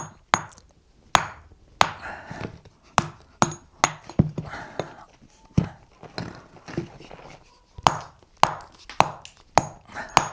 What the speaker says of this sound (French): je vais commencer par aplanir la pierre.